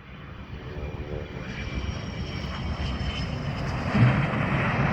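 The Erickson Mad Dog air tanker drones low and steady on short final during the Reno Air Races, its engine noise loud and continuous and swelling slightly toward the end, with no voices.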